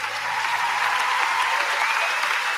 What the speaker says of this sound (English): give the Lord a better clap.